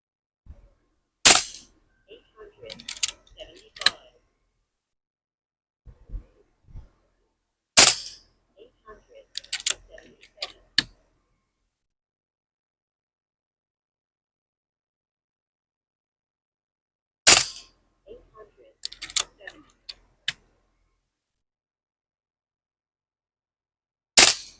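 A Beeman 1357 air rifle fires 9.7 grain pellets outdoors, three sharp single shots spaced well apart, each followed by brief handling clicks and some quiet talk.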